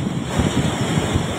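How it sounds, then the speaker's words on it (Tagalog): Ocean waves roll in continuously against a shoreline near a seaside family home, a steady washing roar mixed with gusty wind buffeting the microphone, with no voices heard. "tuloy-tuloy na alon dito."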